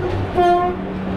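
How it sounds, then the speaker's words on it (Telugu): A goods train sounds a brief, loud horn blast near a track between Rayagada and Visakhapatnam, over a steady low rumble of rolling wagons. "ఇక్కడ గూడ్స్ ట్రైన్ అయితే వచ్చింది"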